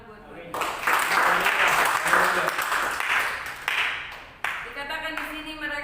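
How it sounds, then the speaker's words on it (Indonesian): Church congregation clapping during a sermon, a dense burst of applause that swells and fades in waves, with a voice and some music-like tones mixed in near the end. "Tepuk tangan buat mereka."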